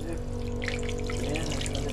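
Water runs steadily from a household tap at low pressure, a continuous soft splashing trickle heard nearby over a low background hum.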